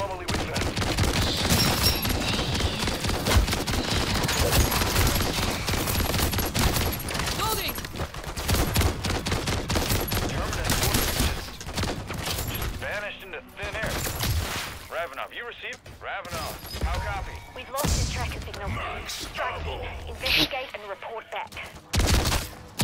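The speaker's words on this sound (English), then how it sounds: "I'm shooting zombies." Rapid bursts of gunfire from shooting zombies in Call of Duty MW3, dense and loud through the first half, then sparser volleys with gaps and scattered shots toward the end.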